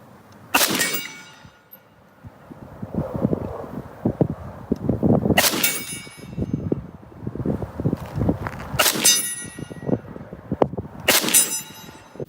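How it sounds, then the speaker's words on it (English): AK-47 rifle rounds striking an AR500 steel target at close range: four sharp metallic clangs ring out a few seconds apart over steady outdoor background noise. "let's go ahead and step it up a notch and bring the AK out and shoot at this target"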